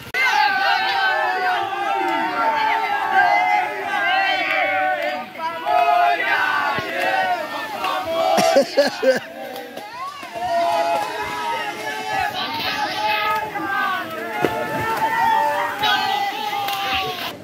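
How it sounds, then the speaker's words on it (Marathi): A large crowd of village boys shouting and cheering near an outdoor swimming spot in a Konkan village, loud overlapping yells and chatter that rise and fall in waves, with excited voices close by throughout. "पोरांचा जल्लोष बघा किती आहे, किती पोरं आलेत बघा"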